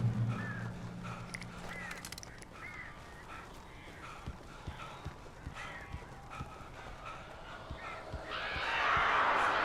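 Crows caw in the Alan Wake game, with repeated harsh calls over a busy ambient background and a rising rush of noise near the end; a voice speaks briefly early on.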